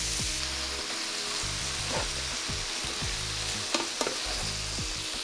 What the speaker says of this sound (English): Now I'm going to add cabbage.